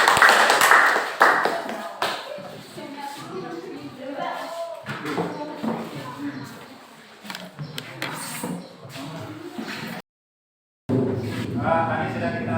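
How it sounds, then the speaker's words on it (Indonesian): A classroom audience gives a short burst of applause for a presentation group, the clapping fading after a couple of seconds as a voice talks on. "Beri aplaus untuk kelompok kinestetik."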